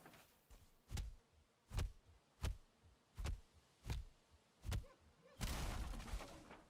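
Sticks are pounded in Valheim with seven sharp, evenly spaced blows, each with a hollow knock, ending in a brief louder crunching burst.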